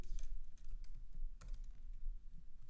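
Fingers type code on a computer keyboard in a quick, uneven patter of soft, close key taps with no voices.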